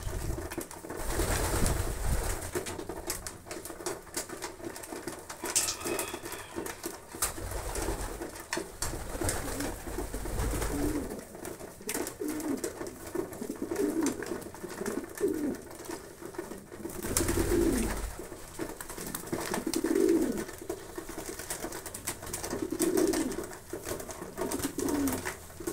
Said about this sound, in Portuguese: tratando das filhotadas. A maioria tudo pombos novos,